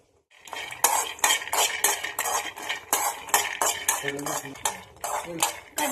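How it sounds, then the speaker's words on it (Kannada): Peanuts fry in a pan and are stirred steadily. Dry rattling and scraping strokes repeat in a quick, even rhythm, close and fairly loud, with only a faint sizzle. "ಬೀಜ ಚೆನ್ನಾಗಿ ಫ್ರೈ ಆಗಬೇಕು"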